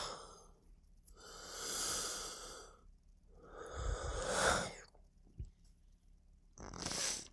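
Labored, congested breathing through a stuffed-up nose after crying: several heavy snuffling inhales and exhales, close and fairly loud, with short quiet gaps and no talking.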